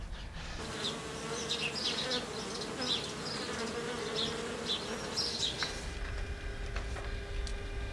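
Bees buzz steadily and close by throughout, a dense insect drone with several passes flying near and away.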